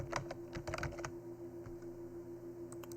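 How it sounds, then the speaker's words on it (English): Keys clatter on a computer keyboard as a word is typed in a document, a quick burst of close, light clicks that slows to a few scattered taps, faint and with no talk. "And we're going to type vacation."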